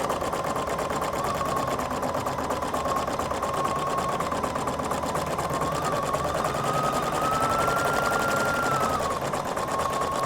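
A Husqvarna Viking Designer Brilliance 80 embroidery sewing machine stitching a placement stitch, with a rapid, steady mechanical chatter and whirring motor tone that rises slightly in pitch near the end.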